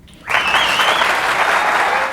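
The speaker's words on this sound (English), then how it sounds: "And the crowd appreciative" Spectators at a women's professional pool semifinal break into applause, the clapping starting abruptly after a brief quiet moment and then holding as a full, steady roar of hands.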